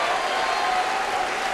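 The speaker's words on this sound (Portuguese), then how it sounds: "Senhor, estas palmas são para ti" A church congregation applauding, a dense, continuous clatter of many hands clapping together with a faint murmur of the crowd underneath, loud and sustained throughout.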